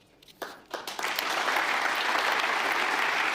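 At the Munich Security Conference, an audience applauds after Marco Rubio's speech. A few scattered claps quickly swell into sustained, even applause from a large crowd.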